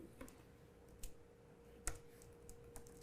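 Two quiet, sharp clicks in close succession, like a mouse double-click, with a few faint ticks around them in a quiet room.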